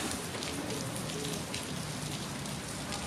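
Rain falls outdoors in a dense, continuous patter, a steady wash of drops hitting surfaces nearby with no voices over it.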